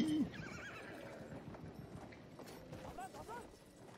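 A horse in the video game Battlefield 1 whinnies briefly, followed by faint clip-clop hoofbeats and scattered clatter under quiet background activity.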